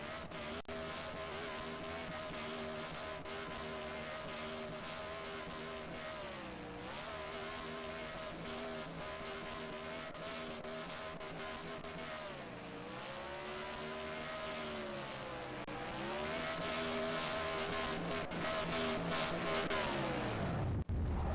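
A NASCAR race car in NASCAR Racing 2003 holds a loud, steady engine roar through a burnout, the pitch sagging and climbing again as it revs, with a brief rising surge near the end before cutting off.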